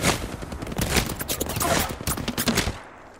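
Rapid bursts of gunfire in the battle royale game Apex Legends, dense overlapping shots at close-to-mid range that run steadily for about three seconds, then fade out at the end.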